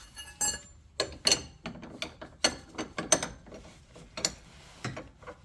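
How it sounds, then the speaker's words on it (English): Two 22mm wrenches tightening a fitting to put tension on it, giving a series of sharp metallic ratchet clicks and clinks in short irregular bursts, close and fairly quiet with no talking. "So we're gonna get both of our 22mm wrenches. And we're gonna start getting tension on this."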